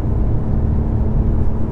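A deep, rumbling V8 engine in a 2020 BMW M5 Competition roars steadily at close range, a low throaty growl holding strong throughout.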